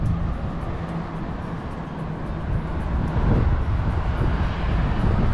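Steady broadband rumble of a fixed-wing aircraft engine near the Key West airport in Florida, with wind buffeting the microphone, a continuous outdoor roar that swells slightly toward the end.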